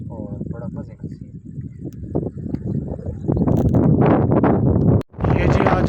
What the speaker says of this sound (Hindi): हवा बहुत ज़्यादा है, शोर भी आ रहा होगा।